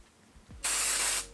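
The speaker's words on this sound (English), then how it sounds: "and spray the front" A quick half-second burst of aerosol hairspray aimed at the front of the hair, a sharp close hiss that starts and stops abruptly after a faint rustle, with no voices.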